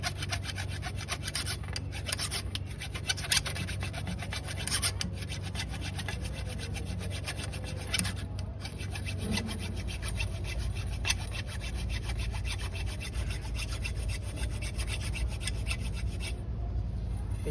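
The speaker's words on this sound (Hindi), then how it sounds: "इसे फ्लैट फाइल जिसे रेती भी बोलते हैं, इससे हम इसको घिसेंगे" Flat file rubbing down the sharp cut edge of a copper pipe for an AC flare fitting, a continuous rasping scrape in repeated strokes, close up with a steady hum behind it.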